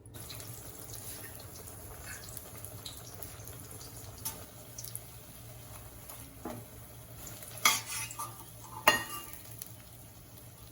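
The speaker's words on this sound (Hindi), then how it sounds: "बैंगन को डुबो के डाल देंगे तेल में" Batter-dipped brinjal slices sizzle softly in hot oil in a kadhai, with occasional clinks and scrapes of a utensil against the pan.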